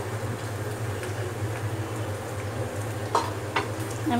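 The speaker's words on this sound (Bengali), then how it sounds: "আমি আর একটু ভালো করে নাড়া দিব।" Zarda sweet rice, topped with nuts, is stirred in a pot, with soft scraping and a low sizzle under a steady hum and a couple of sharper clinks near the end.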